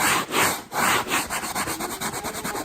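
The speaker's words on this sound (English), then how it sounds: "So I'm sanding it, and I'm getting the fibers to move again" Rhythmic rasping strokes of sandpaper worked over chalk-painted velvet upholstery on an old chair, slower sweeps at first then quicker, even back-and-forth rubs, close and alone.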